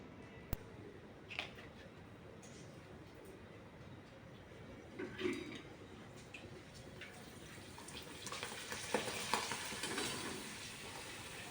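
Homemade rice papad dropped into hot oil, giving soft bubbling and crackling sizzle that swells toward the end, with faint stirring clinks earlier and no talking.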